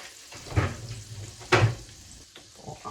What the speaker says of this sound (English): while we get this bacon super crispy